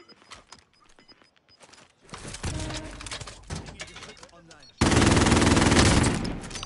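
Video game gunfire: scattered sharp shots and bursts, then a loud sustained automatic volley near the end, with a person talking over parts of it.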